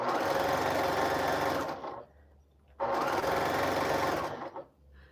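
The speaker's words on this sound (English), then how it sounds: "I'm just sewing along for this backing" A sewing machine stitches quilt backing in two long, steady, loud runs, with a short pause between them and no talking.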